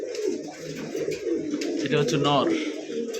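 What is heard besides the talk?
pair of red Bombay pigeons cooing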